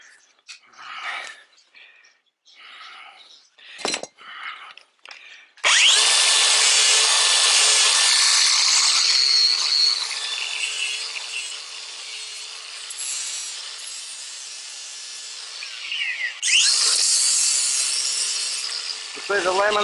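An electric grinder trims a mini pony's fairly soft hooves, running as a loud, steady, high-pitched whine that holds for most of the stretch and changes pitch near the end, after a few seconds of quieter handling noises.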